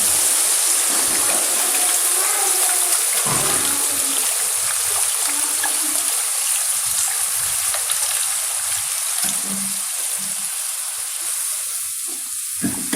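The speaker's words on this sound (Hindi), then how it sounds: "अब हम इसमें पानी शामिल करेंगे तकरीबन 1 गिलास।" About a glass of water poured into frying egg curry masala in a pan sets off a loud, continuous hiss and sizzle with gushing, bubbling water, heard alone for several seconds.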